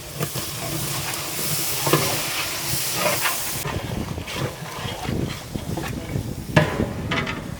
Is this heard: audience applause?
no